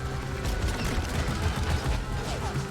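A deployed sentry turret in the Deep Rock Galactic video game fires a dense, continuous burst of rapid gunfire, loud and steady throughout with a mechanical rattle and no clear pauses.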